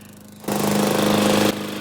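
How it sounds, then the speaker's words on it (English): A lawnmower engine starts abruptly and runs with a loud, steady drone for about a second before cutting down to a quieter hum. "Oh no, it's a lawnmower."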